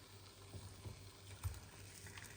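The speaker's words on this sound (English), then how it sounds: "Oh, it is sizzling. Okay. A gentle sizzle." Meat sizzles gently in a frying pan, a soft, steady crackle with faint pops, quiet and close, no talking.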